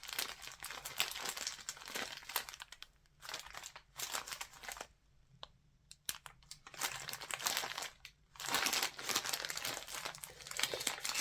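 Plastic wrapping around a gift parcel crinkles and crackles in bursts of handling, close and fairly loud, with brief quiet pauses between rustles.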